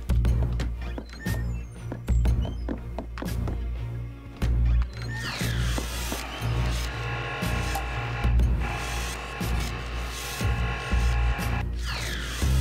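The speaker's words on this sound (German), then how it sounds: "Man hört das sanfte Geräusch eines Ventilators." Soft, steady hum of a fan in a video game, a low continuous drone with layered tones and occasional mechanical clicks and knocks over it.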